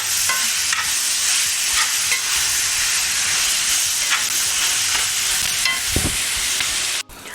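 Carrots and vegetables being stirred in a hot pan for pepper steak, a steady sizzling hiss with soft scraping strokes throughout, loud and close, ending with a brief clatter.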